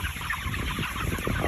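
Chickens lying in a rye field give soft, low clucks outdoors, muffled and continuous beneath steady wind and background noise.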